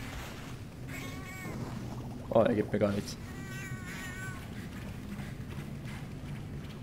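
Short cat meows from the video game Monster Hunter Portable 3rd, a couple of chirpy in-game calls rising over quiet game music, with someone talking briefly in German in the middle.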